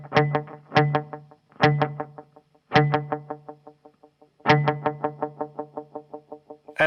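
A homemade kit-built delay pedal throws out a dry plucked note followed by a rapid string of echo repeats that fade away. The same pattern is played several times in a row, loud and close, with no voice.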